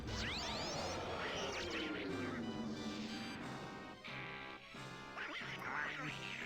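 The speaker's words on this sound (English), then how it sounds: "Why does he sound like Donald Duck?" Kremling enemy in Donkey Kong 64 letting out a nasal, Donald Duck-like quacking squawk, sweeping and warbling over game sound effects and music, fairly loud.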